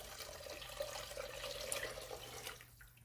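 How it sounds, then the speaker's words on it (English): Broth poured into a soup pot in a steady, close splashing stream that runs for about two and a half seconds and then tapers off, with no talk. "So let's add the broth to the pot."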